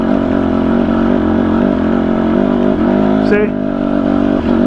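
Husqvarna TE250i TPI dirt bike from 2019 crawling slowly up a steep hill in second gear, its engine a loud, steady low-rpm chug close by, with one brief spoken word over it.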